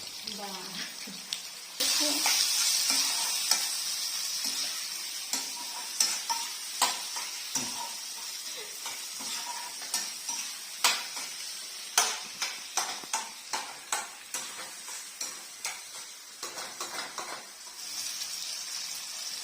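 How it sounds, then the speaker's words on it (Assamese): Potatoes and vegetables fry in a pan for an Assamese fish curry, with a constant sizzle broken by repeated close scraping stirs of a spoon against the pan. "আলুখিনি ভালদৰে ভাজ খালে"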